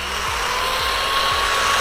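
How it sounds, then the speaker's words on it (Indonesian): A bench grinder spinning up before sharpening drill bits, giving a steady high motor whine with a faint rising hum underneath, close and continuous without any talk. "Jadi kita hidupkan mesin gerindanya."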